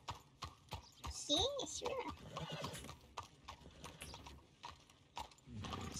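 Horse hooves clip-clop and a horse whinnies briefly in Red Dead Redemption 2 as a rider stops in town, with steady hoofbeats under overlapping talk throughout.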